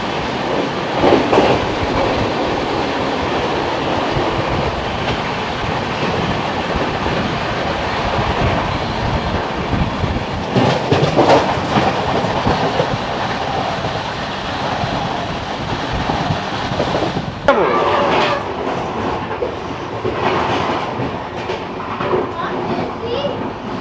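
The Deccan Queen Express, Pune to Mumbai, rolls along the rails with a steady rumbling clatter heard from inside the carriage, with rhythmic wheel clicks and louder bursts around the middle and later, and people talking faintly beneath.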